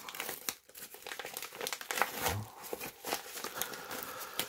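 A packed paper envelope being torn open and its contents unwrapped, with faint, close crinkling and ripping in uneven bursts and no voices.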